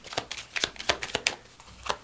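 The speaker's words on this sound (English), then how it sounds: "We're going to give her a shuffle." Tarot cards are shuffled close up in a quick series of crisp riffling bursts, around eight sharp flutters in two seconds, alone without talk.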